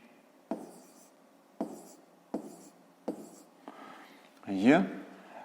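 Numbers being written by hand on paper for a fifth-grade math exercise, quiet scratchy pen strokes in short separate bursts, with a voice speaking near the end.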